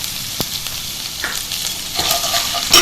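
Red chillies and turmeric frying in hot oil in a pan for urad dal kadhi, giving a steady close sizzle with a few sharp crackles and pops, no voices.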